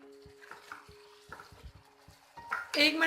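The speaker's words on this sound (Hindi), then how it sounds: "दोनों को अच्छे से मिक्स करेंगे" A spoon stirs garam masala into spiced okra in a pan, giving soft scraping taps at a slow rhythm that end in a louder clatter of the pan. Faint sizzling runs underneath.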